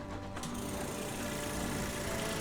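Drilling in the Sunless Skies video game, a dense, steady mechanical grinding drone that holds loud and unbroken from start to finish, with no talk over it.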